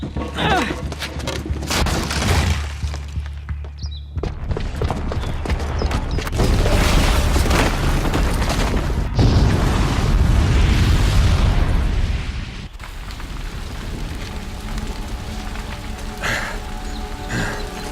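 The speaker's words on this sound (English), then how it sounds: "the booby trap on the bomb downstairs is gonna get set off" In Horizon Zero Dawn, a bomb's booby trap goes off, unleashing a loud, sustained roar of blasts and crumbling debris that rolls on for several seconds before easing into a lower rumble with scattered rattling.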